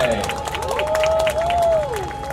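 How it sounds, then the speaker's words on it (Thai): A crowd at a series' special premiere night claps and cheers, a dense background of applause under a host's loud, continuous voice. "ขอเสียงปรบมือหน่อย"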